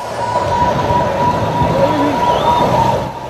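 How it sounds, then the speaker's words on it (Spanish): Sirens sound across Arequipa, Peru, to start a national earthquake drill, a steady wailing tone carried over loud outdoor street noise with a few rising pitch sweeps. "El sonido de las sirenas fue el inicio del simulacro de sismo de grado 8 en la escala de Richter"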